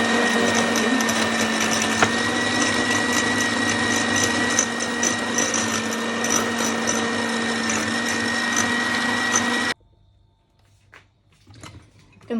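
An electric mixer beats three small eggs with sugar, a loud, steady, high motor whir running continuously for nearly ten seconds before cutting off abruptly, followed by a few faint clinks.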